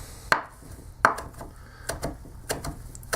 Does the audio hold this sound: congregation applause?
no